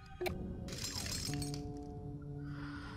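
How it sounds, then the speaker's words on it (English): Footsteps crunching over broken glass in the horror game Layers of Fear, a sharp crackling shatter near the start, then lighter clinks and grinding fading under a steady background drone. "what happens when you walk on broken glass. Makes a fucking noise"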